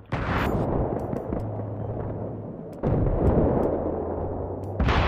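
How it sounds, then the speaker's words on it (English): A grenade explodes in a video game war battle with a tank nearby, with heavy booming blasts and rumbling gunfire, then a second loud explosion midway and another burst at the very end. "Grenade!"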